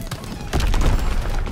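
Call of Duty gameplay gunfire with an StG44 rifle: a short burst of rapid shots rings out over the game's background noise, loud and close, with no speech.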